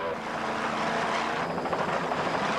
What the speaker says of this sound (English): Once again, our HMC helicopter there from Miami, Florida.